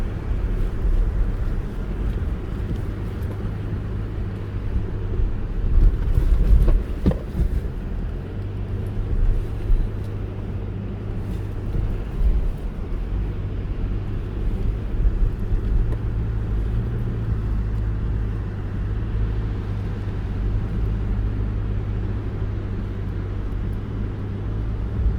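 A 2022 Toyota RAV4 Hybrid in second gear on the Oceano Beach sand dunes, traction control off and losing traction, gives a steady, droning engine rumble throughout with no voices.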